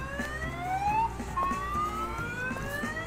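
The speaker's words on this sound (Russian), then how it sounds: "Да это сигнализация." An alarm sounding in a scene from the film Hottabych: a warbling electronic tone sweeps up and down repeatedly over a busy background, fairly loud and steady throughout, with no one speaking over it.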